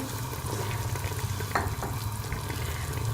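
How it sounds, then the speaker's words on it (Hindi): Tomatoes go into a pot of simmering beef broth (yakhni) for gobhi gosht, giving a dense, continuous sizzle and bubbling close by with a brief splashy burst midway. "इसमें हम ये टमाटर डाल देंगे"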